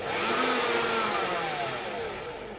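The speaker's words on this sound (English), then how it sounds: "hold one end with a pair of pliers, one end in the drill, give it a whiz" A brief whirring spin of an electric drill twisting a piece of wire held with pliers, rising then slowly winding down over a couple of seconds, close and fairly loud.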